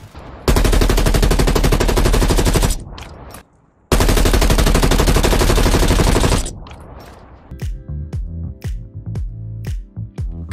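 A modern firearm sound effect made for film and video games: two long, loud bursts of rapid automatic fire, separated by a short pause. A string of sharp single shots and mechanical clicks follows, with no voices.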